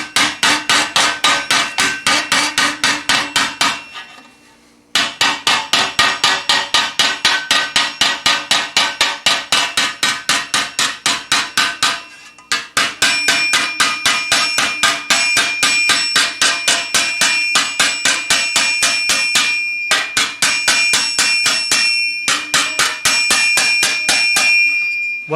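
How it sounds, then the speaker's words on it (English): A hammer planishes sheet metal for armour greaves, walking across the surface in a fast, even stream of bright ringing blows, loud and close, broken by two brief pauses. "What I'm doing is I'm hammer walking"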